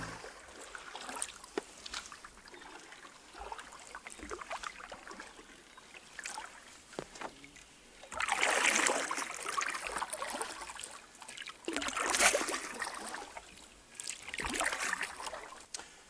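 Solo canoe paddling on Baker Lake in the Boundary Waters wilderness: soft rhythmic paddle strokes and water swirls, with louder splashing surges near the end, close and without talk.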